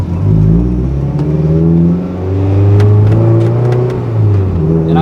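Mazda NC Miata with a modified exhaust revving loudly, engine pitch climbing and falling through several sustained pulls, close and alone with no talk.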